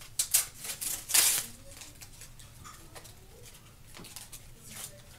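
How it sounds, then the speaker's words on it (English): Tape pulled off glued wood on a DIY bling mask stand, heard as a few sharp ripping, crackling bursts near the start, then quieter scattered peeling ticks. "now all I wanna do is pull the tape off"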